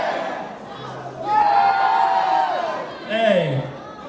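A concert crowd at a show in Łowicz screams on cue in two loud, sustained bursts, the second shorter, with a voice shouting over the noise.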